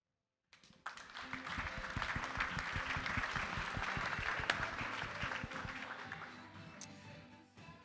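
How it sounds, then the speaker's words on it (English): A tech meetup audience bursts into sustained applause, many hands clapping densely for several seconds before gradually tapering off. "big round of applause for everybody"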